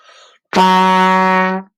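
A single sustained trumpet note, a low A, steady and held for about a second before cutting off, preceded by a brief breathy noise.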